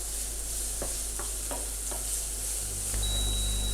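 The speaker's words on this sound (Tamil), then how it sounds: "நான் வெஜிடபிள்ஸ் வந்துட்டு ஒரு 2 மினிட்ஸ் நல்லா ஃப்ரை பண்ணியிருக்கேன்" Mixed vegetables with capsicum stir-frying in a pan, a steady broadband sizzle with a few soft scraping stirs, close and fairly loud, with no voices.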